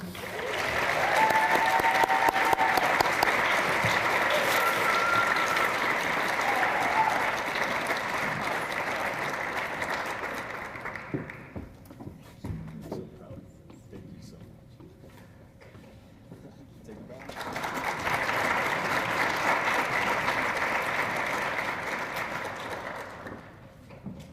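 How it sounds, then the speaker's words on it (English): Sustained audience applause at a school awards ceremony fills the room, dies down to near quiet for several seconds, then rises again into another long round of clapping. "please a round of applause for this Science Student of the Year for 2022, Best in the Nest, Melina Mohammadi."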